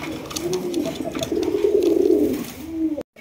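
A pigeon at a bird farm gives a drawn-out, rolling cooing call, fairly close and steady for about three seconds before cutting off, with no speech over it.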